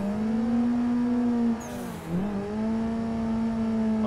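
A race car engine in a sim racing game drones at a steady high pitch, dips briefly through a quick shift, then climbs back and holds a constant strained howl, loud and continuous.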